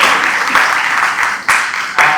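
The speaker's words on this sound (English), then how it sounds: "give a big round of applause for the student volunteers who are there, who are working tirelessly for today" Audience applauding student volunteers at a Model United Nations event, a dense patter of many hands clapping continuously with a few sharper, louder claps standing out, close and fairly loud.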